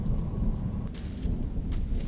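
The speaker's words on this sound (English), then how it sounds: "the rain is getting heavier by the minute" Steady heavy rain roars as a dense, constant wash, with low rumbling underneath and a couple of brief brighter bursts, suggesting thunder and gusts within an outdoor storm.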